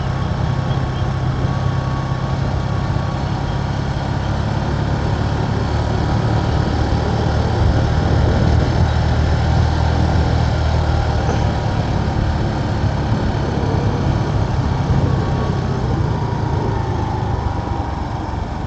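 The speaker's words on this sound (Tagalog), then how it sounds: "kita nyo naman, ugong yung motor eh," A motorcycle engine hums as it climbs a steep uphill farm-to-market road. A continuous, even drone of engine and wind noise holds steady throughout, with no talking.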